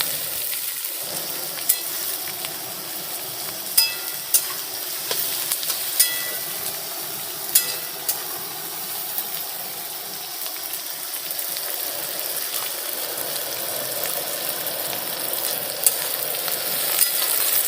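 Onions fry in a pan over a gas flame, giving a steady loud sizzle and hiss, with a spoon or spatula clicking and scraping at intervals as they are stirred.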